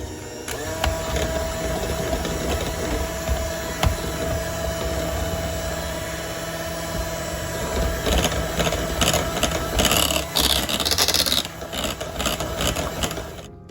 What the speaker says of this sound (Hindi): थोड़ा सा मैं इसमें बीटर चला दूंगी।